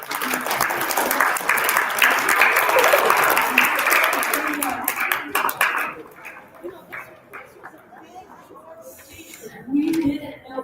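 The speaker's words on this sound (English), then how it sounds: "Clap if you're happy, clap if you're" Children clap along at an indoor time capsule opening, a dense rattle of small hands for about six seconds that thins out as adults keep talking over it.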